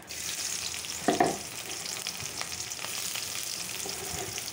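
Onions fry in oil for hilsa fish paturi, a continuous close sizzling hiss with one brief clatter early on and small crackles throughout.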